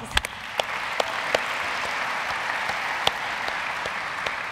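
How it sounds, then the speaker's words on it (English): A crowd at an awards event applauds continuously, with a few sharper, louder claps standing out above the steady clapping. "give a round of applause for yourself"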